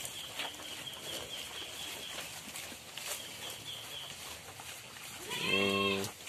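Goats in a pen on a small farm, including pregnant does and a buck, with steady barnyard ambience and a loud close bleat near the end; voices murmur faintly.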